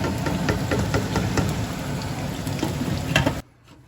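Okra frying in a pan alongside chicken and ghee, giving a steady, close sizzle with faint crackles that cuts off abruptly near the end.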